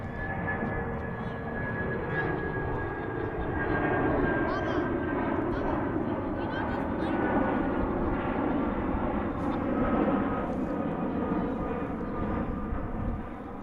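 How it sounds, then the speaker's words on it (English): A UPS Boeing 757 taking off at Dallas/Fort Worth airport gives a loud, steady roar of jet engines holding level throughout, with a faint whine above it and talk mixed in over the engine noise. "As UPS takes off here"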